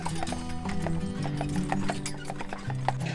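Horse hooves clip-clop steadily on pavement as a horse-drawn carriage moves through a downtown street, the rhythmic clopping close and clear with a brief whinny and low background hum.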